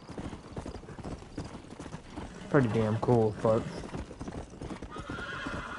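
A horse in the video game Red Dead Redemption clip-clops along steadily and gives a loud whinny midway, while someone talks over the hoofbeats throughout.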